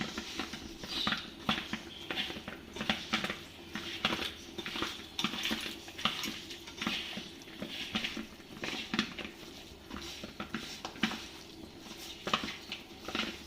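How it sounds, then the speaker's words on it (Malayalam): Chicken is squeezed and mixed by hand with masala spices and curry leaves, producing wet squelching and slapping pats in an uneven, repeated rhythm, close up and without talk. "ആ ചിക്കനിലേക്ക് ഈ മസാലകളെല്ലാം കൂടി കൈകൊണ്ട് നന്നായിട്ട് യോജിപ്പിച്ച് കൊടുക്കാം"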